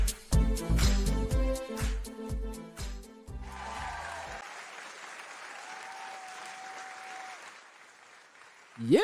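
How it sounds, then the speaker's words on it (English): A live studio audience on a talk show breaks into applause, a loud burst of clapping that swells at first and then settles into a steady, softer patter of hands. "One big clap now."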